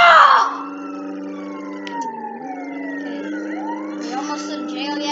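A wailing siren on a motorbike sweeps up and down continuously, loud and close, with engine hum underneath and a brief shout at the start.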